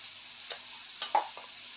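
Fried onion stirred in a pan with half a spoon of turmeric for a dhaba-style whole masoor dal: faint background sizzle broken by a few clicks and scrapes of a spoon, close and quiet, no talking.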